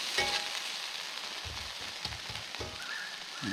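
Chicken and vegetables sizzle in a frying pan over a campfire beside a river, a soft steady crackle with a few gentle stirring knocks, close and quiet.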